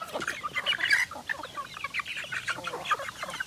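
Free-range chickens, including a rooster, cluck and chatter close by in a steady run of short, overlapping calls, with no speech.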